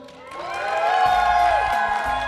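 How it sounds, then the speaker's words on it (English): An audience cheers, whoops and applauds for the bag chasers in the building, the noise swelling to a loud, sustained wall of crowd voices and clapping. "Can I get a round of applause for the bag chasers in the building?"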